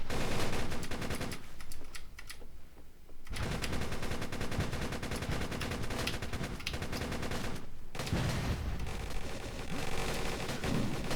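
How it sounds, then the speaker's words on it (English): Rapid automatic AK47 fire in the video game Darkest Days rattles in long sustained bursts, broken by two short pauses. "I accidentally shot him in the body."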